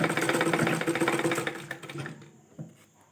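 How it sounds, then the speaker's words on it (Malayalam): Domestic sewing machine stitching an invisible zip with a standard presser foot, a steady rapid mechanical whirr and needle chatter that runs loud for about two seconds, then stops, leaving a few faint clicks. "ഇതാ അങ്ങനൊന്ന് സ്റ്റിച്ച് ചെയ്തെടുക്കാം"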